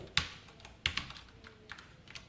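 Keys clacking on a computer keyboard while C code is typed, a few quiet, sharp, irregular taps close up with pauses between them and no talking.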